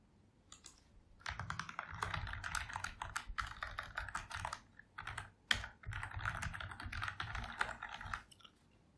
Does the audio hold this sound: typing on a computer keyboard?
yes